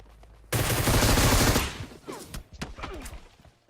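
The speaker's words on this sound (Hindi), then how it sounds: "अब देखो दूर कहीं से गोली चल रही होती है" A burst of rapid automatic gunfire in PUBG Mobile, a dense rattling volley lasting about a second, followed by scattered lighter shots and clatter fading out.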